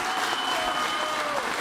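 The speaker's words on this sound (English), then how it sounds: "the applause was a little muted from the crowd" Subdued applause from an audience at a city council meeting: a steady, moderate wash of clapping that holds evenly throughout without rising into cheers.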